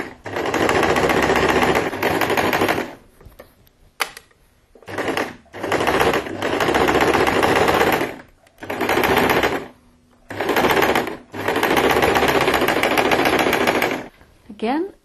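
Sewing machine stitching through layers of fabric for a purse makeup organizer insert, running in several loud sustained bursts with short pauses between them.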